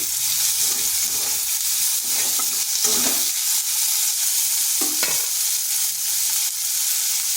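Thin sliced onion frying with cumin seeds in a pan, a dense continuous sizzle broken by a couple of stirring scrapes, close and loud with no talking.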